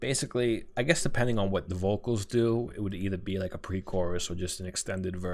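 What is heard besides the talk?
None of the usual background noises is heard.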